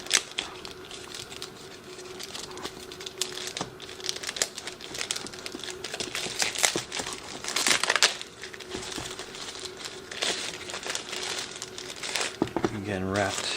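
Plastic wrapping crinkles and crackles steadily while a drone controller is unpacked, with close, busy rustling bursts throughout and a voice talking over it.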